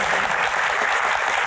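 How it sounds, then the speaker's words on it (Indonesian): A studio audience applauds for a guest named Ferry on an Indonesian talk show, a dense, continuous patter of many hands at a steady loud level without a break. "tepuk tangan buat Ferry."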